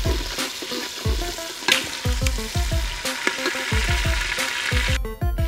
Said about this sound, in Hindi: अब इसमें टमाटर ऐड करेंगे कटा हुआ, और इनको भी भून लेंगे।